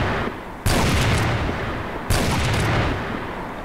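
Two loud bursts of rapid gunfire from the shooter video game CrossFire, each erupting suddenly and holding for over a second, close and dense, with no talking.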